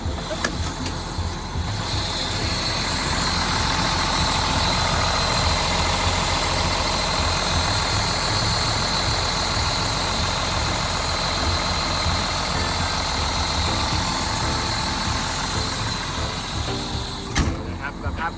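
A Hitachi ZW310-A wheel loader's diesel engine idles steadily and loudly for the whole stretch, a continuous low rumble with a mechanical clatter, and no voices over it.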